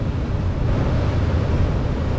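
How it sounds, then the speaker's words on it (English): Ocean waves roll in at the shore of an intertidal zone as the tide rises, a continuous loud rushing wash with gusty wind buffeting, no voices. "The waves are definitely getting higher, the tide's coming in"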